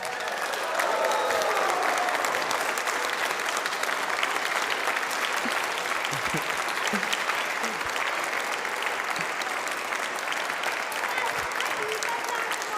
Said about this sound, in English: it should give a big round of applause to the winning design